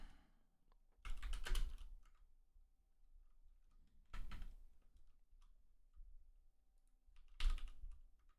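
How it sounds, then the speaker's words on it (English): Typing on a computer keyboard comes in three quick bursts of soft clicking keystrokes, close and fairly quiet, separated by near-silent pauses. "Typing in highly sensitive information."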